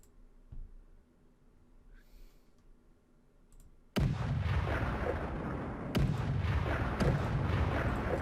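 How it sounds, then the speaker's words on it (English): Artillery shelling in a Stalingrad war video game, with loud, dense booming and rumbling bursts that start abruptly partway through and continue steadily, with sharper blasts standing out, after a quieter stretch of faint clicks. "Keep shelling plenty of enemies in that sector."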